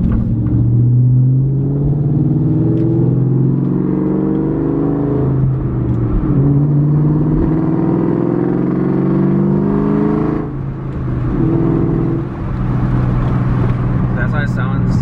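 Car exhaust fitted with Pacesetter longtube headers, rumbling loud and close through a steady part-throttle run, revving up through gears with shifts near 4000 RPM; the engine tone climbs, dips at each shift and climbs again with no pauses.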